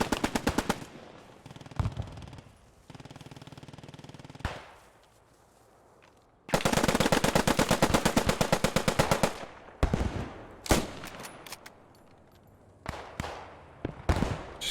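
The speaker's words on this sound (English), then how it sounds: "There is like a light machine gunner with a Bren firing to my right hand side." Bren light machine gun fire in the wartime shooter Post Scriptum: scattered distant shots, then a long loud sustained burst of rapid fire, followed by more sporadic cracks and short bursts nearby.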